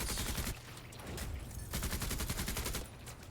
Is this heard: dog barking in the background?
no